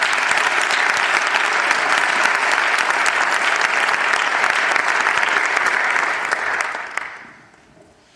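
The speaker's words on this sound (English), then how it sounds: "So let's give a round of applause for Michael Bolton." A conference audience gives a sustained round of applause for keynote speaker Michael Bolton, dense loud clapping filling the room for about seven seconds before fading out quickly.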